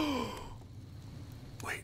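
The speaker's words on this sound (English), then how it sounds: "why are we gasping?" In the video game Tiny Tina's Wonderlands, a pirate-quest character lets out two short, breathy gasps, one at the start and one at the end, quiet and close with a lull between them.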